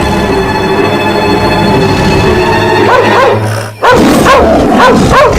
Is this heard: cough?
no